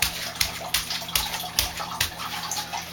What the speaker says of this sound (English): Flooding, we're flooding here, flooding.